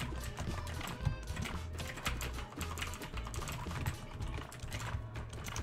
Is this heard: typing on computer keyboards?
yes